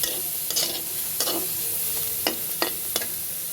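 Onions frying lightly in a pan, a soft, even sizzle broken by several sharp spatula scrapes and clacks against the pan at irregular intervals, with no talking.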